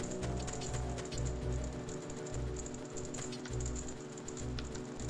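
Rapid ticking rattle of a gold skulltula in the Zelda Ocarina of Time video game, a quiet, steady clicking pattern repeating over a low game background hum.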